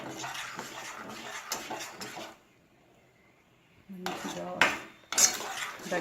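A thickening offering dish is stirred in a metal pot, with close scraping and clinking of a spoon against the pot, then a short pause before louder knocks and scrapes resume.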